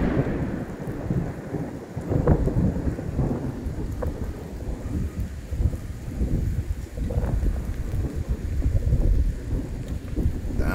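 Steady rain with rolling thunder during a storm breaking a long dry spell over brown, parched grassland, a continuous dense wash with low rumbles swelling and fading throughout, no voices.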